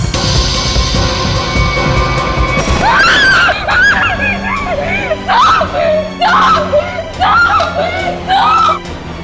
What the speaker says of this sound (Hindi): इतनी जोर से क्यों चिल्ला रही है?